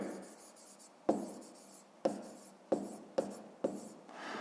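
Pen scratching on paper as digits are written by hand during a fifth-grade maths exercise, five distinct close taps each followed by short scribbling strokes, quiet and without talk.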